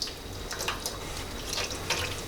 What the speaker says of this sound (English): the glaze is just pouring right on there